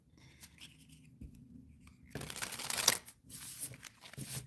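Tarot cards riffle and shuffle in quick bursts, close and crisp, the flapping growing louder toward the end with no talking.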